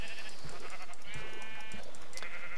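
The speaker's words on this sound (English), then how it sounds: "I'm just going to take care of these sheep real quick." Sheep bleat in the Minecraft video game, several short wavering bleats in quick succession over a bright, constant game background noise with no speech.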